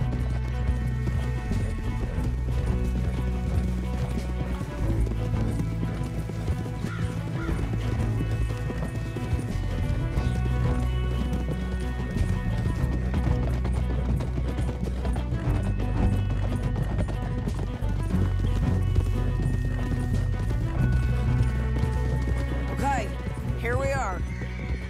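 Horses gallop in Red Dead Redemption 2, a steady run of hooves under dense game music and effects, with occasional whinnies and talk throughout the 25 seconds.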